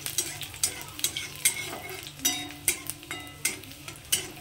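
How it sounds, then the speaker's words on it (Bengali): Chopped garlic fries in hot oil in a pan, a steady close sizzle broken by repeated scraping stirs and light clinks of a utensil against the pan, with no talking. "রসুনটা হালকা একটু ভেজে নেব"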